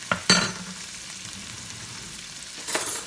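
Cabbage fries in a pan with a soft continuous sizzle, broken by a couple of sharp spoon knocks and scrapes as a spoon stirs and cuts it, with no speech.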